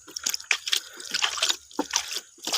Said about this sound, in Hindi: अभी हल्के हल्के पानी के छट्टे डालने हैं यहाँ से ऐसे कर कर